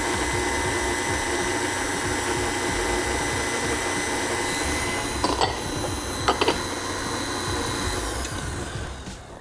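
A KitchenAid stand mixer kneads enriched ensaymada dough with eggs and fat. Its motor gives a steady whirring hum throughout, with a few brief knocks and clatters partway through and no voices.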